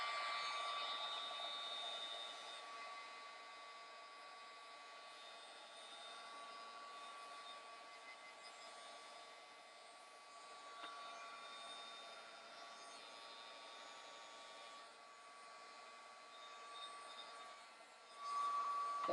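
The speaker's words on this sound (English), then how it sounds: "Let me just give it another quick heat set." A heat tool drying wet mixed media paint gives a continuous soft whirring hiss, steady and fairly faint for nearly twenty seconds, with slight swells near the end.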